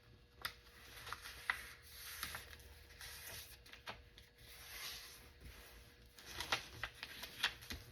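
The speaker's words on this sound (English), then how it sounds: "I'm just going to go ahead and give that a good crease." Paper folded and creased by hand for a junk journal book, with quiet rustling, rubbing and several sharp crinkling presses at close range.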